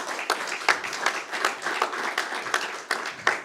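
A French audience at a regional business-school sales trophy final applauds the finalists as they come on stage, a dense, even patter of many hands clapping close by for a few seconds with no voices over it.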